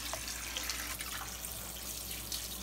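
Soaked cashews being rinsed under a running kitchen tap: a steady, close hiss of flowing water splashing into a sink, continuous and even throughout with no talking.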